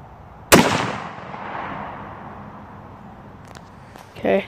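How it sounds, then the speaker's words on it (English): .243 rifle fires a single sharp, loud report at close range, leaving a rolling echo that decays over a few seconds, followed by faint clicks and a short burst of talk at the end. "my dad's going to shoot the first one just to see how the gun's firing"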